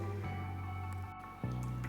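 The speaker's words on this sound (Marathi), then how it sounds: "आता आपल्याला यामध्ये कोमट पाणी घालायचं आहे" Lukewarm water goes into a spicy Vidarbha-style dal-onion curry in a pan, giving a soft, close squishing pour over a steady low hum, with a brief shift partway through and no talking.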